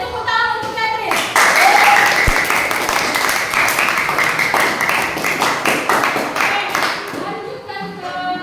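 An audience claps for a presenter named Catherine, with a steady wash of applause filling the room for several seconds and voices audible underneath before it tapers off.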